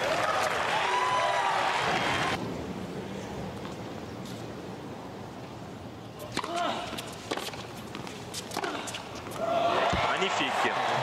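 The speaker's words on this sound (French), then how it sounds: "ça mérite des applaudissements." A tennis crowd at the 2006 US Open applauds in bursts, with loud clapping at the start, a quieter stretch with scattered claps and thuds, then clapping swelling again.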